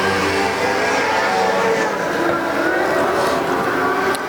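ModLite race cars run on the Arizona Speedway oval, a loud sustained engine roar with shifting pitch as cars pass along the back straightaway, continuous throughout.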